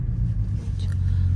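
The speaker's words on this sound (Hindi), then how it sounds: "पर यहाँ तो बहुत ट्रैफिक है।" Road traffic near Manali on a busy two-lane route, a close, steady low rumble of car engines with a faint higher whine passing by, brief and continuous.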